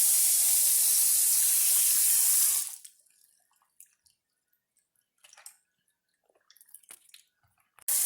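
Water running into a bowl to rinse an ingredient for an Asian dessert, a loud steady splashing flow that stops abruptly partway, followed by quiet drips and small clinks.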